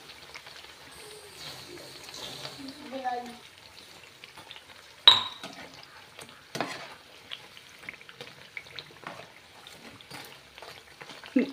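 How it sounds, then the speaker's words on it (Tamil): Hot oil sizzling and crackling close by as thattai (crispy rice crackers with peanut, garlic and ginger) deep-fry, with scattered sharp pops and a brief murmur of a voice early on. "இந்த எண்ணெய் கொதிக்கிற ஓசை கொஞ்சம் அடங்கணும்"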